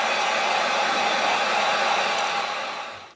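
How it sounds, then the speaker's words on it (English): Heat gun blowing steadily to dry fresh paint before stenciling, a loud continuous airy roar with a broad hiss that holds level, then tapers off as it shuts down near the end. "So we'll get the heat gun, get it dried, and then we'll see about a stencil."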